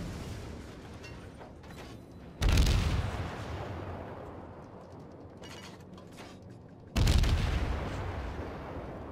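Two heavy booming salvos of naval gunfire from warships in the World of Warships game, each a loud broadband blast at about 2.5 and 7 seconds that decays slowly over a constant low battle rumble.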